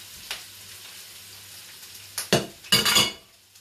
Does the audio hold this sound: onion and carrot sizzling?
yes